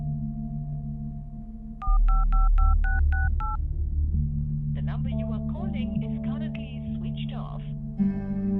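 A borrowed mobile phone's keypad sends about seven quick, evenly spaced dialing beeps while a number is punched in for a call, followed by mixed electronic tones and background sounds.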